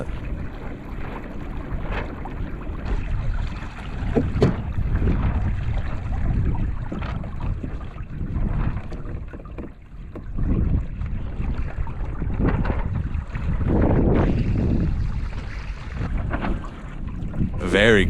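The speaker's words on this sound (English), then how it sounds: "This is how you can enjoy kayak with sails." A sail-rigged kayak glides through water in a light wind at about three knots, with a continuous low rushing of water and wind buffeting the microphone for the whole stretch.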